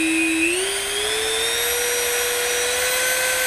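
A Dremel 4200 rotary tool revs at high speed, a loud, close, steady high-pitched whine that climbs in pitch early on and then holds, with no talking.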